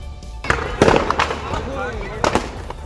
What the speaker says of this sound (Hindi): पटाखे फूटने की आवाजें आ रही हैं।